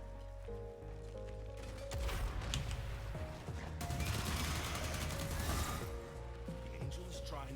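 Gunfire in the video game Warframe, bursts of rapid shots and mechanical clatter over sustained tonal game music, swelling loud in two stretches and easing off between them.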